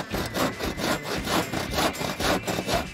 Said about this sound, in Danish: jeg saver bare her